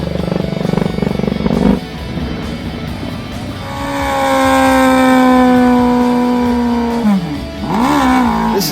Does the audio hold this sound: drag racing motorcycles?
yes